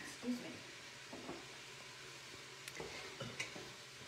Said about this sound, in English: We just want to get a little bit of a sear on those vegetables